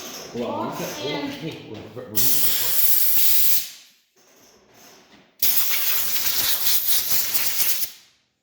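Compressed air blowing off a surface being sanded, two long loud hissing blasts, with a person talking over it just before the first.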